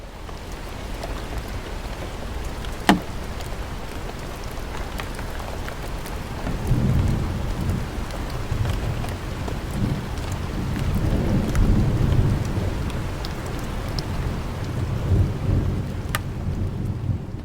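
Steady rain with heavy drops pattering nearby and low thunder rumbling through the middle and end, plus a sharp crack early on.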